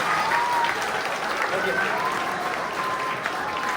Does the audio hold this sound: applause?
yes